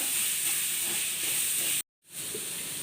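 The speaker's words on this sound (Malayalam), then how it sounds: "ഇനി ഇതിലേക്ക് ചെറുതായി മുറിച്ച് വെച്ചിരിക്കുന്ന രണ്ട് ചെറിയ തക്കാളി ചേർത്ത് കൊടുക്കാം വഴറ്റി കൊടുക്കാം" Two small chopped tomatoes sauté with spices in a hot pan for pepper chicken, giving a steady, loud broadband hiss of sizzling that cuts out briefly near the end before resuming.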